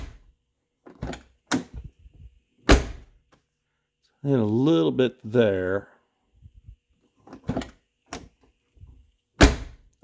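A Lincoln Town Car door, fitted with a replaced striker bolt bushing, shuts with several sharp, solid thuds spread out over time, and someone speaks briefly between them.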